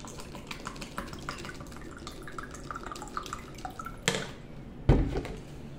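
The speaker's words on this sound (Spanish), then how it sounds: "Y voy a echar agua en el otro vaso." Water poured into a second drinking glass, a quiet close trickle with light drips, followed by two sharper knocks as the glass is set down.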